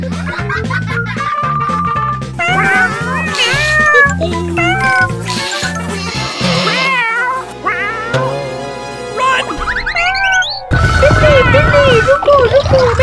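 A cartoon cat meows and yowls repeatedly among bright music and sound effects, loud and busy, with excited cartoon voices and a crash-like burst near the end.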